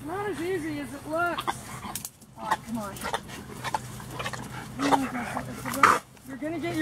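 A dog on a check cord whines and yelps in repeated rising cries near the microphone, with a person's voice mixed in over the top.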